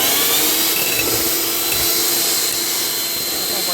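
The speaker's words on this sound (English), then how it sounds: "I'm going to come over here to the hand mixer and mix it up a little bit." An electric hand mixer whips a homemade eczema cream in a bowl, a loud continuous high motor whir with rattling, close and steady throughout.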